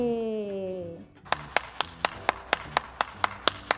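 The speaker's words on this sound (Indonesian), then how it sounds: "Yang setuju berikan tepuk tangan dulu dong buat Tuhan kita." A voice speaks, then children's religious online class audience claps in a slow, even rhythm, about ten distinct sharp hand claps, close and clear.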